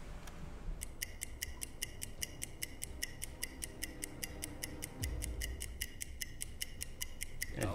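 A stopwatch ticks in a submarine video game, a crisp, faint, evenly spaced series of rapid clicks starting after a brief pause and continuing steadily over a low background hum.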